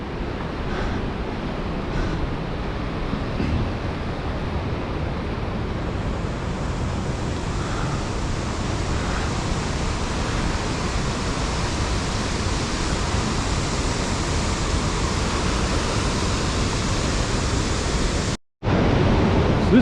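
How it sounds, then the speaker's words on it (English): A waterfall on the Mist Trail roars as a steady, dense broadband rush of falling water, loud and unbroken for the whole stretch with wind buffeting the microphone and a brief dropout near the end. "the whole thing's a waterfall"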